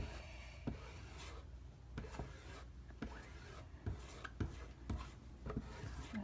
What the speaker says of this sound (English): Now I'm just going the opposite direction and pulling down, trying to get all this chalk paste off of my squeegee.